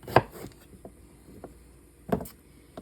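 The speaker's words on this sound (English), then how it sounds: "I'm just going to cut them in quarters" A kitchen knife slices pickling cucumbers into quarters, giving two sharp, close knocks against a cutting board with quieter taps between them.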